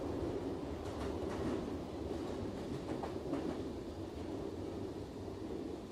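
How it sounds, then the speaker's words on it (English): A moving train in The Outlast Trials game gives a steady low rumble with faint rhythmic clatter of wheels, continuous and unbroken throughout. "Are we on a train?"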